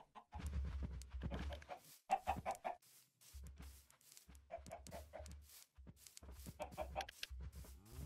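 Chickens cluck and squawk in short bursts in Minecraft, over a constant low hum, with brief gaps between the calls.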